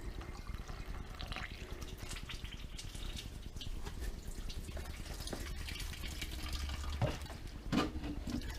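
Filtered water flushes through the coolant system of a Yamaha R1 motorcycle, a continuous trickling, splashing flow with dripping, steady for several seconds, with a couple of faint knocks near the end.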